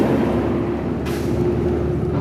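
A big truck on the road pulling away, a steady loud low engine rumble with a brief hiss of air partway through, heard from close by at the roadside.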